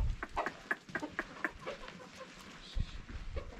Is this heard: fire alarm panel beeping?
no